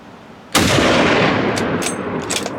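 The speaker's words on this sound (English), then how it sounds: "they realized they needed to make a shot happen and make it happen fast" A single loud rifle gunshot cracks out during a spring bear hunt in rugged Idaho country, a sharp onset followed by a long rolling echo that decays across the hills, with faint high-pitched rustles near the end.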